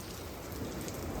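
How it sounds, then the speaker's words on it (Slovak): Steady rain falls outdoors along the Albanian Riviera near Llogara pass as the shower begins to ease, forming a dense, continuous hiss of drops on surfaces that stays even and close for the whole moment, with no voices. "A už prší menej."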